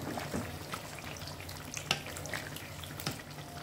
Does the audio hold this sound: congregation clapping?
no